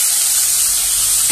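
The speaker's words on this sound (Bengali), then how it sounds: "এবার যে ভেজে রাখা পটল আলুগুলো সেগুলো দিয়ে দিলাম।" Fried pointed gourd and potatoes go into a pan of Gobindobhog rice and spices, giving a loud, steady close hiss of sizzling oil with a short scrape near the end.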